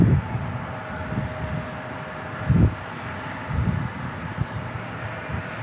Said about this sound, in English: Got Southwest Airlines getting ready to land